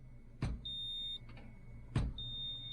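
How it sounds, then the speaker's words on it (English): Cruise control on a classic fully mechanical Peterbilt 359 semi truck emits steady high electronic beeps, cut briefly by two sharp clunks as the brakes are applied, over a low idling engine rumble. "See, it stops beeping when we apply the brakes."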